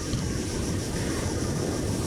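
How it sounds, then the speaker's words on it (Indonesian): Ocean waves at Pasir Panjang beach in Singkawang make a steady, unbroken wash of surf, heard alone at moderate level. "Suara ombak menjadi latar yang konstan."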